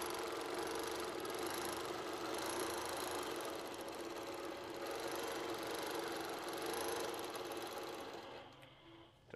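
A longarm sewing machine runs a continuous straight stitch, a steady motorized whir with a high whine held evenly for several seconds, winding down at the end.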